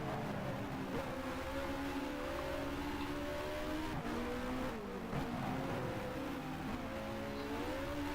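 A 1960 Formula One race car engine in the F1 Challenge video game at Zandvoort drones steadily and loudly at close range, its pitch rising and falling with throttle through corners, with no talk over it.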